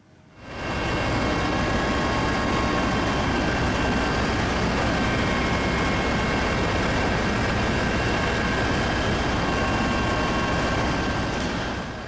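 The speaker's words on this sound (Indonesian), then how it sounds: "Anda akan melihat suasana dari udara saat helikopter Basarnas menyisir perairan Selat Bali." Basarnas search-and-rescue helicopter flying over the sea of the Bali Strait during a missing ferry search, a steady loud rotor and engine roar that fills the whole stretch without pause.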